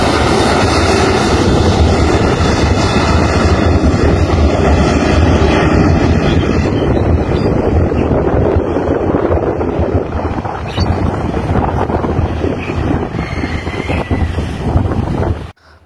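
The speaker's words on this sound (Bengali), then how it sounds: "আমি আর কথা না বাড়াই বিমানের শব্দটা শুনুন আর আকাশে উড়ে যাওয়ার মুহূর্তটা দেখুন।" An airplane roars loudly on the runway at Dhaka airport during takeoff, a continuous heavy engine rumble with wind buffeting the microphone, easing slightly toward the end.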